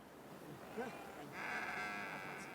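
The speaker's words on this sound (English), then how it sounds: "In the end, I bought 4 sheep and 2 lambs." Sheep bleating in a Kashmir Himalayan farm setting, one soft bleat followed by a longer, louder sustained bleat, set against low background noise with a faint voice.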